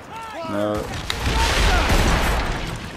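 Ship cannons firing in a naval battle in Assassin's Creed Rogue, a rolling barrage of heavy booms that begins after a brief stretch of speech and stays loud to the end.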